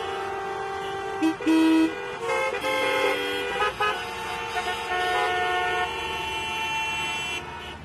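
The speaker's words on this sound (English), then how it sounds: "Here, people honk even when the signal is red." Car horns honk repeatedly in Mumbai city traffic stopped at a red signal, loud overlapping toots and longer blasts from several vehicles over a steady street roar, with no talking.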